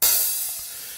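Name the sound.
open hi-hat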